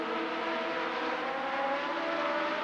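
Legends race cars circling Rockford Speedway late in a race, engines droning together in a steady, dense roar with no break across the stretch.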